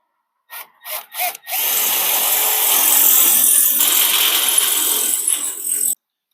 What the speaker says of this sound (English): let me drill those out while I'm over here.